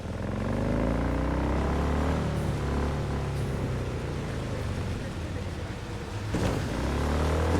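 A car in Cyberpunk 2077 drives with a steady engine hum that rises and falls slightly, mixed with a low rumbling drone throughout.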